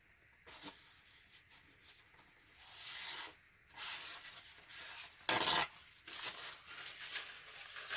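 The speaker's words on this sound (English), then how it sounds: "Wipe all the excess paint off my hands, which I always seem to get everywhere" Hands being wiped clean of excess acrylic pour paint during a gold and emerald pearl dirty pour; close, dry rubbing and swishing in intermittent bursts, with one brief harsher scrub partway through.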